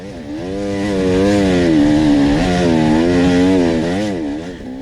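An enduro dirt bike engine drones loud and close while riding through dusty sand at an extreme hard enduro race, its pitch swinging up and down with the throttle and swelling at its peak before easing off.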